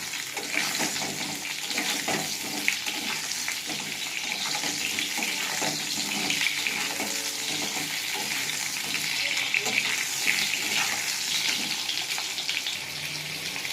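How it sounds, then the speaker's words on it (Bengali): Sliced ridge gourd frying lightly in oil in a kadai, a continuous close sizzle and hiss with faint scrapes of stirring throughout, no voices. "ঝিঙেটাও আমি হালকা একটু ভাজা ভাজা করে দিয়েছি"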